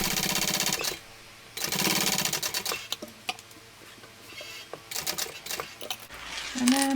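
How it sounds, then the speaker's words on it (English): A sewing machine top stitching a shoulder bag with a recessed zipper panel runs in fast mechanical bursts, starting and stopping between quieter clicks and handling noises, close and fairly loud, with no talking. "And then up this end, and then starting my top stitching."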